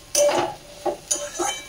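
Beetroot and vegetable mix is stirred in a pan, with a spoon scraping and clinking against the metal in three or four distinct strokes, close and fairly loud, with no talk.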